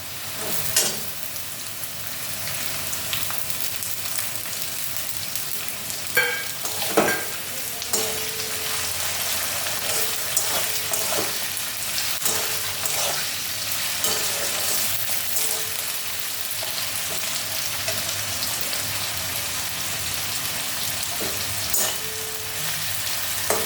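Steady crackling sizzle of salted onions frying in a pan, with a few clinks and stirring scrapes scattered throughout.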